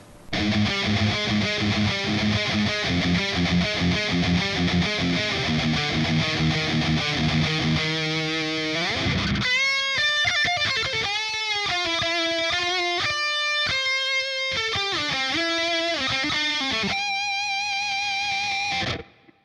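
Loud, distorted Ibanez Prestige electric guitar through a Line 6 HD500 with heavy crunch, chugging palm-muted riffs shifting into ringing, bending lead notes, sustained without any talking.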